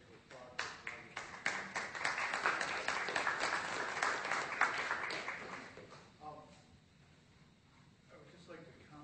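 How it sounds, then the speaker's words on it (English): Clapping from attendees at a Fulton Common Council meeting, a roomful of hands building quickly into steady applause for several seconds before tapering off into faint room noise and a few scattered claps. "So I would just like to applaud her"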